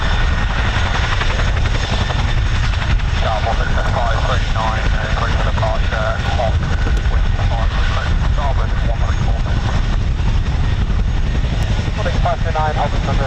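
Military aircraft departing from RAF Holbeach air weapons range, a loud, steady broadband engine roar filling the whole stretch with radio chatter underneath.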